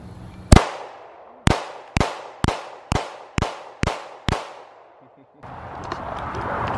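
A shotgun fitted with a grenade launcher fires eight loud, sharp blasts at a steady pace of about two per second, each with a short echoing tail. Broadband outdoor noise follows.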